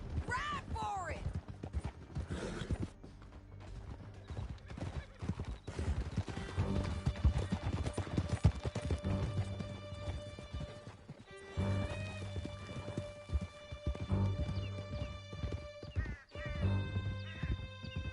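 A horse gallops in Red Dead Redemption 2, with rapid, rhythmic hoofbeats and occasional neighs and whinnies across a long ride, mixed with game music and shouted voices.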